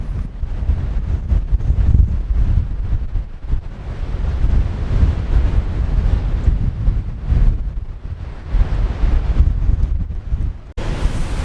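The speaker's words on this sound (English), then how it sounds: "So windy." Heavy wind buffeting the microphone in low, rumbling gusts on a beach on Australia's south west coast, rising and falling continuously, loud and close, with no talking.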